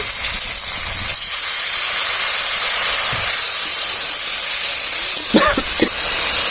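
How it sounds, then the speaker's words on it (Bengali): Ground turmeric and cumin fried lightly with water in a hot pan give a steady, loud steaming hiss that lasts the whole time, with a few brief clinks near the end. "এখন একটু হালকা ভেজে নিচ্ছি"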